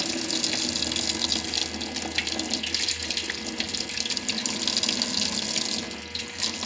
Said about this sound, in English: The way I pre-treat stains is I get the water going on the washing machine.